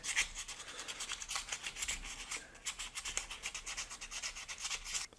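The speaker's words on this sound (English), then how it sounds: "Give her the old Scotch-Brite treatment." A Scotch-Brite scuff pad is rubbed over a car's body surface in quick, repeated strokes, a close, steady abrasive scratching rhythm with no voices.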